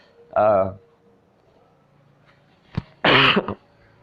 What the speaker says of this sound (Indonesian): saya agak batuk gitu ya, sedikit batuk